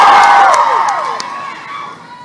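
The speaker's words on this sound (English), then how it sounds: "You guys should not feel weird about cheering for Esther." A live book-tour audience in Dallas cheers and whoops loudly, the crowd noise fading gradually over a couple of seconds without speech.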